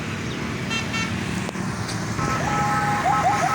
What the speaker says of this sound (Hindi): ये शोर तो है, गाड़ियों का शोर है, हॉर्न वगैरह बज रहे हैं